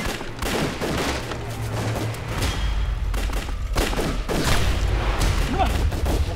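Dense gunfire from a war film battle scene set against Japanese troops, volleys and booming shots crackling continuously and loudly for the whole stretch, with deep thuds underneath and some shouting mixed in.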